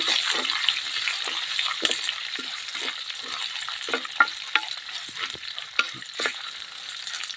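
Chopped large onions frying in hot oil in a pan while being stirred, giving a steady bright sizzle with repeated scraping strokes of the spoon throughout, no talking.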